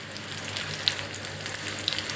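Tomatoes sizzle and fry in hot oil in a pan while being stirred, a steady close hiss with faint scraping ticks and no talking.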